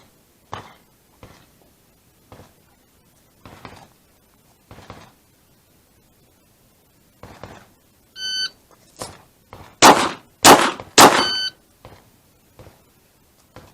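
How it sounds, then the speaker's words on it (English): Pistol fired one-handed at 5 yards in a timed range drill: a shot-timer beep sounds, then three loud, sharp reports follow in quick succession, with softer clicks and handling noises before and after. "You have 3 seconds to fire 3 shots."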